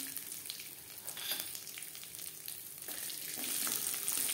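Cooking oil sizzles in a kadai (wok) just used to fry potatoes, a steady crackling hiss that grows slightly louder toward the end, with no voices.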